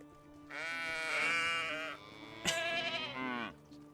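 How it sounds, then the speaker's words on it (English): Sheep on a farm in the medieval video game Medieval Dynasty bleat twice, two drawn-out, wavering calls, fairly close and clear against a quiet background. "that's a lot of sheep"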